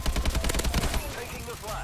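Gunfire in a shooter video game, with rapid bursts of automatic shots in a fast rhythm that are loud and close, then easing into a busier, quieter game mix.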